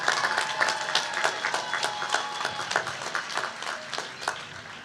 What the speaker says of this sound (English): one final round of applause to our graduates